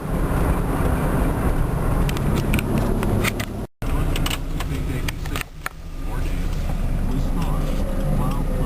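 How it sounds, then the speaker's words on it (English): A Chevy S10's engine idles steadily after a central port injection (spider) replacement, a smooth continuous hum with broadband noise and a brief dropout partway through. "Idle isn't jumpy at all. Like I said, nice and smooth, everything's working the way it should."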